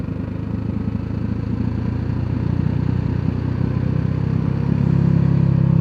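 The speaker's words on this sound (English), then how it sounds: "It's funny how the engine brake is working." A BMW G 310 GS motorcycle engine braking on a test ride in Bali, its steady mid-pitched drone with a rough, pulsing rumble that swells slightly louder toward the end, close and continuous with no talk.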